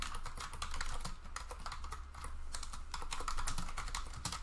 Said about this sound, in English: So we'll go ahead and type that out right here.